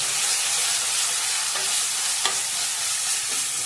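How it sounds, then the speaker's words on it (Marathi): Masala for mutton sukka roasts in hot oil over a low flame with a steady close-up sizzle, stirred now and then, with a sharp scrape of the spoon against the pan near the middle. "त्यात आता आपण ठेवलेला मसाला सुक्यासाठी तो भाजून घेऊया."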